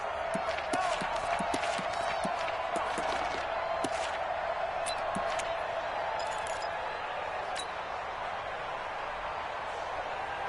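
Stadium crowd in a football video game cheering ahead of a big third down, a dense continuous roar with scattered sharp claps and shouts standing out over the steady din.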